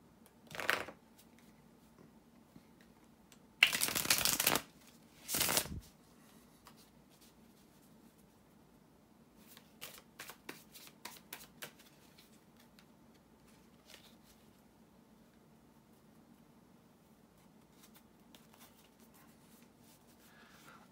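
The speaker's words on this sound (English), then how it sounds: "bear with me a second, guys, to shuffle the tarot cards" Tarot cards are shuffled in a few quick, crisp bursts, then softer riffling and tapping follow in a quiet room, with no talking.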